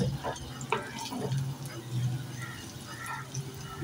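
Palak vadi, crispy spinach gram-flour fritters, frying in oil in a pan as they are turned over, with soft sizzling, stirring scrapes and small clinks under faint background sounds.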